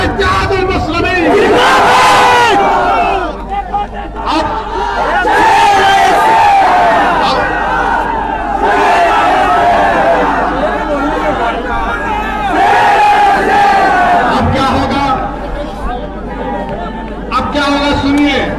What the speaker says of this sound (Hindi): सच कहा तो नारा लगा हमारे साथ, नारे तकबीर, नारे तकबीर, इत्तेहादुल मुस्लिमीन।